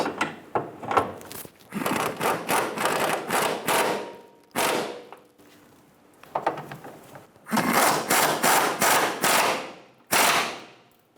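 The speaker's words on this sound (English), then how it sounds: "Snug down the tank strap bolts." Fuel tank strap bolts on a 2007-2017 Ford Expedition being run down with an impact or ratchet tool, loud close bursts of rapid rattling rattle-clicks repeating in several groups with short pauses between.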